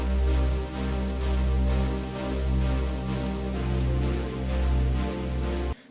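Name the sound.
synth bass note along with chords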